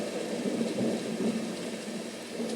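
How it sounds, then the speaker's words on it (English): A Dreamegg white noise machine plays its thunderstorm setting, a soft, steady wash of rain hiss with faint low rumbling, quiet and continuous with no voices. "Oh, a thunderstorm."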